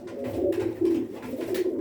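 Pigeons coo continuously up close, soft throaty warbling calls overlapping with one another.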